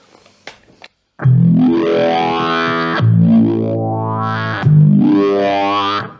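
A thick, distorted bass synth from a Digitech Bass Synth Wah pedal, slowed right down, sweeps slowly in three long notes, each with a wah-like filter rising and falling, loud and alone.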